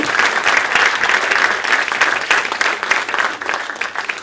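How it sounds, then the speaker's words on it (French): Participants at a round-table event marking the 40th anniversary of the ATDI applaud themselves, a dense, close burst of crowd clapping filling the room steadily from start to finish. "On peut s'applaudir"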